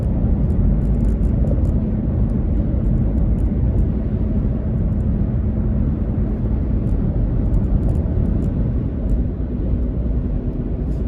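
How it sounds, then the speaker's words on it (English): A loud, steady engine roar with a low rumble and whir, holding constant throughout like a helicopter passing close by. "so the helicopter just passed me."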